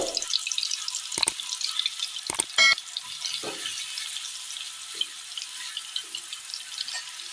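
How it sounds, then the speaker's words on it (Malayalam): Masala-coated beef pieces fry in hot oil in a pan for a chilli banana beef dish. A steady, bright sizzle runs throughout, broken by a few sharp pops and clicks, with no talking. "എണ്ണ ചൂടായി വരുമ്പോൾ അതിലേക്ക് മസാല പുരട്ടി വെച്ചിരിക്കുന്ന ബീഫ് കഷ്ണങ്ങൾ ഇട്ട് കൊടുക്കാം."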